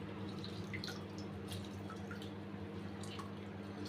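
Lemon squeezed by hand into a jug of amla (Indian gooseberry) juice, with a few faint, scattered drips and splashes over a steady low hum.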